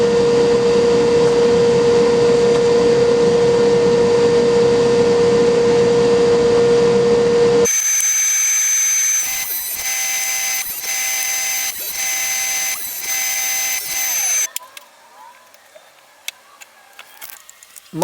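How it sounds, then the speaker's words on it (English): Table saw fitted with a dado stack cuts a test pass through scrap wood: a loud steady motor whine runs first, then the blade bites into the board with a harsh, fluttering cutting roar before spinning down into quiet clicks. "Now I'll make a test cut on some scraps."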